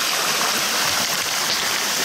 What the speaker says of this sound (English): it's completely collapsed in with a lot of water running out of it